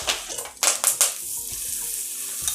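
Urad dal and curry leaves sizzle in hot coconut oil with asafoetida, a loud crackling fry with a few sharp bursts as the leaves hit the pan, then a steady sizzle, with no talk.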